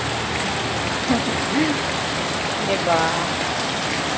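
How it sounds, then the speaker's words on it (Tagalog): Heavy rain pours steadily outside, a dense continuous hiss throughout, with a brief faint voice over it. "Super lakas ng ulan sa labas."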